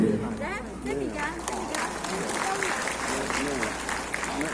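An audience at an award ceremony held at Kun Shan University in Tainan keeps up a soft, steady applause, while a voice talks clearly over it throughout.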